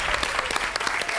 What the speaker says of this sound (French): Là, on entend le public applaudir et féliciter Claude.